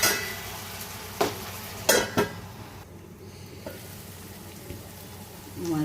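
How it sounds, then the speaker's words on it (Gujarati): Finely chopped tomatoes tipped into a hot pan for a dhaba-style bottle gourd curry, a steady low sizzle broken by a few sharp clatters of ingredients dropping in and a brief cough, no talk. "હવે હું એની અંદર આ ટામેટાની જે ઝીણા કાપીને રાખ્યા હતા એ હું હવે નાખી દઈશ।"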